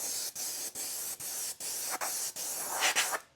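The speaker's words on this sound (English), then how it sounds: "we're ready to spray some colors" Short bursts of spray paint hiss onto a Tekno RC ET48 car body, about eight even pulses separated by brief gaps, close and steady, with no talking.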